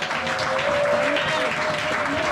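Church congregation applauding at a service, a dense continuous wash of clapping from many hands, with a held voice or tone sounding over it.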